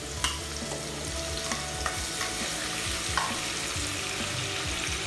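Shrimp sizzling and frying in a pan as it is stirred, with steady frying noise and repeated scraping stirs throughout, for a Filipino squash and string bean coconut-milk stew with shrimp.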